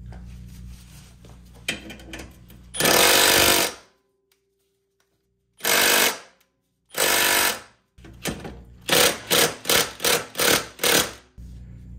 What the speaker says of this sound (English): I'll start by trying to impact this side to get it out